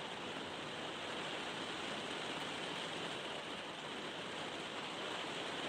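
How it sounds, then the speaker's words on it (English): Steady broadband hiss of rain falling, constant and even throughout with no breaks, fairly quiet and with no other sounds on top. "Sorry about the rain."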